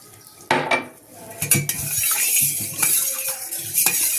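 A spoon clinks and scrapes against a pot while lemon juice is stirred into cooled sugar syrup for lemon squash, with several sharp metallic knocks followed by continuous swishing and scraping close by.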